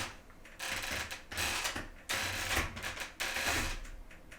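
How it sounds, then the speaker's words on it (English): A wooden chair creaks and clicks in a quiet room, with several loud rasping bursts at irregular intervals as the seat shifts. "That's my chair making that. It's a wooden chair"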